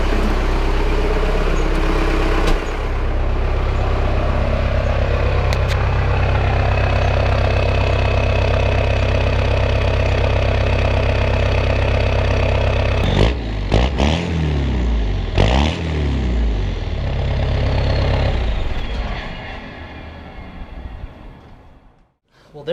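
A Cummins 4BT diesel engine in a 2002 Ford Expedition idles with a deep, steady rumble, briefly revving and sputtering midway before settling and fading out toward the end.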